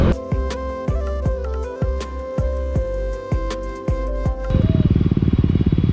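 A motorcycle with its exhaust dB killer removed idles with a loud, popping exhaust in evenly spaced bursts, then the engine revs up into a harsh, rapid roar.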